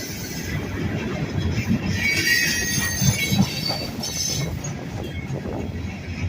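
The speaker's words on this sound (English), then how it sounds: "I have no idea what the symbol on this train is" Freight train with railroad cars rolling past a trackside spot on the Southern Tier line, a steady loud rumble of wheels with squealing metal and faint clickety-clack running throughout, close by and with no voices.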